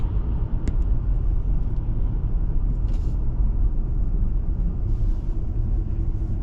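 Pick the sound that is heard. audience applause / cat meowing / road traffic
road traffic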